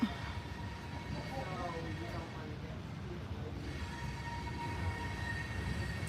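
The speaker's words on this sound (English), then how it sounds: "That train is long." Low rumbling and clattering of a passing train continues steadily throughout, with faint squealing tones drifting above the drone.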